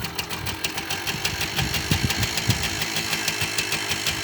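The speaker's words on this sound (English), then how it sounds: "Starting up the machine, fuel on, kickstands up." A motorbike engine idling close by after starting, a steady low knocking putter with a fast even firing rhythm and a light vibration, with no talk over it.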